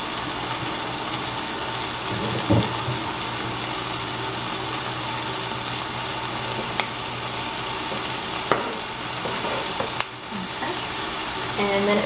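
Tomatoes and chives fry in a pan, a steady close sizzle with a few utensil clinks and knocks breaking through now and then.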